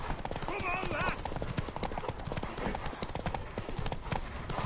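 Horse hooves clip-clop in a steady rhythm close by in The Witcher 3, with voices talking over them throughout.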